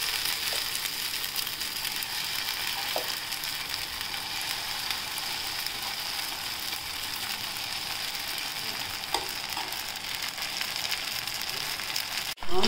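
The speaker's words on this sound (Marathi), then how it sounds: "दुसरा डोसा टाकतो." Rava poha dosa batter sizzles on a hot pan with a steady, even hiss at close range, broken by a few faint ticks and a sharp knock at the very end.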